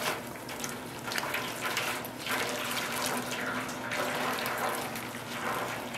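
Water from a tap runs steadily and fairly loudly into a sink while hand-dyed yarn is washed. The broad rushing continues without a break and no one speaks.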